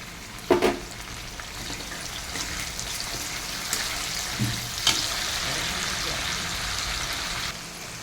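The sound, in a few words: chopped tomato frying in a pan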